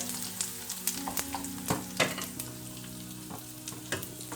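Close sizzling and crackling of spices and asafoetida powder frying in hot oil for kara chutney, with sharp pops and a brief stirring clatter, fairly quiet.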